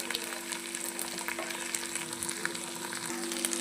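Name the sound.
frying ginger garlic paste in a pan for chicken fry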